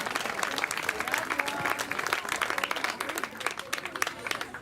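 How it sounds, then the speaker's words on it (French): A school audience in a hall applauds a student as he comes up to speak, a dense, steady patter of many hands clapping that lasts throughout at moderate distance. "Vous pouvez l'applaudir."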